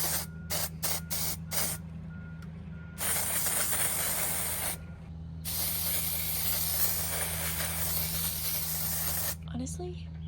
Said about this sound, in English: I'm gonna take it and just spray it all over the pumpkin.